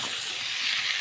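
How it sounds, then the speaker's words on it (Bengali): New potatoes fry with spices in a hot pan, producing a faint, steady sizzling hiss that runs unbroken and without voices. "সুন্দর করে আলুগুলো আমরা মশলার সাথে আগে কষে নেব।"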